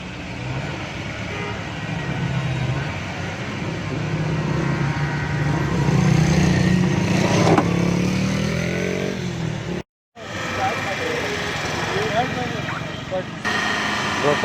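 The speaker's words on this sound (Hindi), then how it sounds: "पीछे वाली गाड़ी को हमने स्टार्ट किया हुआ है, ब्रेक दबा के रखी है" A car's engine idles steadily with the brake held, the car started to help pull another damaged car straight during an accident repair; the low hum runs continuously, broken by a brief dropout near the end.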